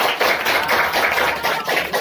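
Schoolchildren at an elementary school library event clap their hands together in a loud, steady, fast patter that fills the whole moment without any talking.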